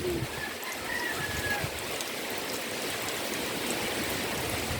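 Spring water flows and splashes steadily throughout, a continuous broadband rush at a moderate level, with faint bird calls in the background.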